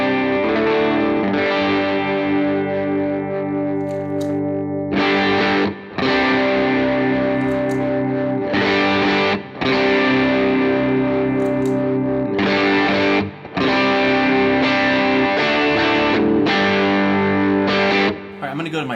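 An electric guitar runs through a Jackson Audio Broken Arrow V2 overdrive pedal set to mild gain, playing a gritty, chorus-tinged phrase of chords and notes with short gaps between them, loud and close.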